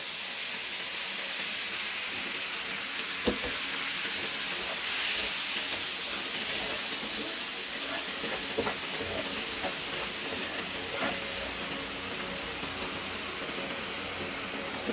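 Whole spices such as garam masala and bay leaf sizzle steadily in a hot pan in a home kitchen, a continuous hiss with a few faint clinks, no talking.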